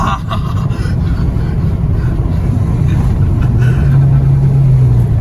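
Car engine on a test drive along small country roads, a steady close rumble that swells and holds a rising tone as it accelerates, with no one talking.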